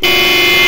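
A single loud, sustained car horn blast, steady and brassy, held for under a second at close range.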